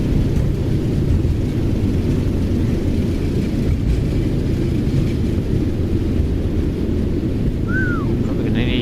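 Thrust reversers on a Boeing 737-900ER roar after a hard landing in X-Plane 12, a loud, broad, steady rush of engine noise that holds throughout, with a brief electronic chirp near the end.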